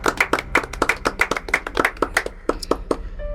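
A church congregation clapping in acclamation of the Lord, a brisk rhythmic run of sharp hand claps, close and loud, with no voices over it.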